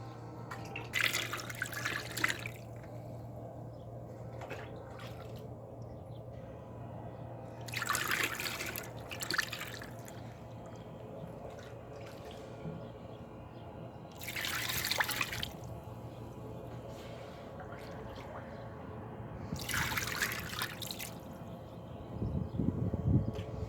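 A car engine bay is rinsed with water after a tire-foam test, bursts of hissing spray recurring about every six seconds with dripping and trickling between, fairly close, no talking.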